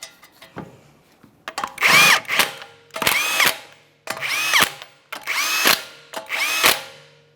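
A power tool runs down the 21mm lug nuts on a 2014-2018 Mazda 3 rear wheel, heard as five close, loud bursts of whirring and rattling in a steady rhythm, one per nut, with short pauses between them.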